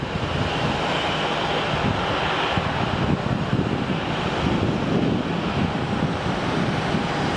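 An airplane flies over Phoenix Sky Harbor airport with a broad, continuous roar that holds at steady loudness throughout, mixed with gusty wind buffeting the microphone.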